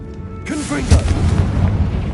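Confringo blasting spell exploding in Hogwarts Legacy, a deep booming blast that swells and rumbles for about a second and a half.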